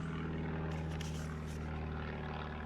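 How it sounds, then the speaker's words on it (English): A small propeller plane flies low overhead near a little runway, its loud, steady engine drone filling the whole stretch without pause. "that's a very noisy plane"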